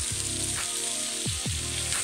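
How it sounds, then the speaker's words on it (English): Tofu and vegetables fry in a little oil in a frying pan, giving a steady close hiss and sizzle, with a few brief scraping stirs across the two seconds. "empty the contents of your packet of veg into a frying pan with little oil and cook for 2 minutes"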